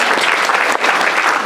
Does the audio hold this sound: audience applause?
yes